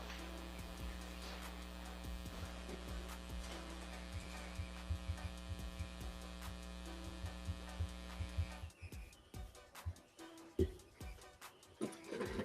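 A steady electronic white-noise hum plays during a courtroom sidebar, a continuous droning buzz with harmonic tones that cuts off abruptly near the end, leaving quieter room sounds and scattered clicks.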